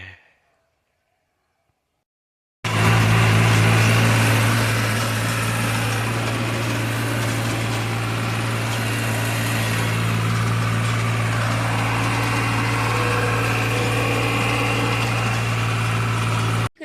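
A tractor engine running with a rotavator attached starts abruptly after a short silence, then holds a loud, steady droning rumble close by with no break.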